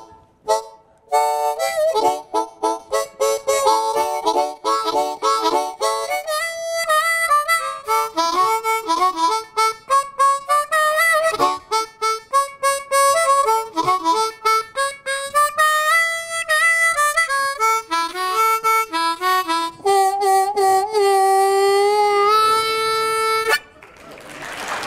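A song plays back loudly and continuously, with rapid harmonica-like melodic lines bending and trilling over the full length.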